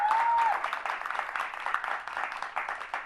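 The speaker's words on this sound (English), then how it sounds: "I think that warrants a round of applause." A round of applause rises from the audience at a law firm's State of the Firm celebration, starting full and then thinning into scattered, uneven clapping that tapers off.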